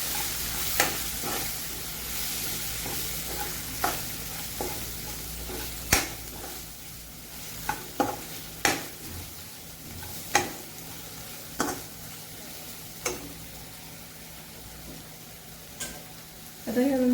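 A spoon stirs turmeric and red chili in a pan for dhaba-style dal tadka, with sharp metallic taps and scrapes every second or so over a soft sizzle, close by, with a voice talking in places.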